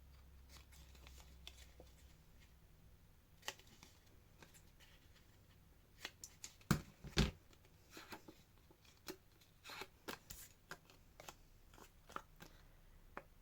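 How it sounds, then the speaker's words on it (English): Scissors snipping small cuts into paper edges during papercraft, quiet crisp clicks and snips scattered irregularly over faint rustling, with a cluster of sharper cuts near the middle. "I'm just going to snip in a little bit on the edges."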